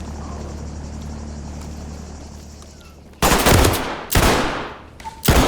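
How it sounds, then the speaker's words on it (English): Magnum shotgun blasts in the tactical shooter Ready or Not: three loud, close booms with ringing tails, after a steady hum of game ambience. "I'm blasting somebody with this Magnum"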